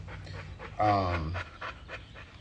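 A pointer hunting dog pants in quick breathy bursts close to the microphone, with a brief whimpering whine in the middle.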